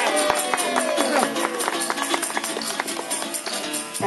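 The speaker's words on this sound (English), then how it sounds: "Give him a big round of applause now." Applause from an audience at a 2019 spring variety show, a dense spread of claps with some crowd noise, filling the room evenly from start to finish.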